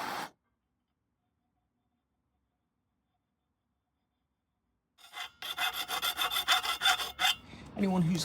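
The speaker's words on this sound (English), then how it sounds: "Next we're going to just clean that copper pipe up so we've got nice shiny metal on which to weld." Abrasive rubbing cleans a copper coolant pipe on a Mercedes R107 down to shiny metal, heard as close, rhythmic scraping strokes that start after a long silence and run for about three seconds.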